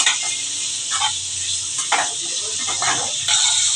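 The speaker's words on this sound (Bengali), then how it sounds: "আমি কিন্তু শক্ত করে ভাজবো না চিংড়ি মাছ কিন্তু ভাজলে বেশি শক্ত হয়ে যায়" Prawns shallow-frying in hot oil for a Bengali pumpkin-and-prawn dish, a steady soft sizzle with occasional brief spatters and stirring, no talking.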